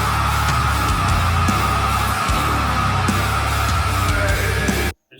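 Electric bass guitar tone from an album recording, playing on its own as a loud, dense, steady sustained sound for about five seconds before cutting off abruptly.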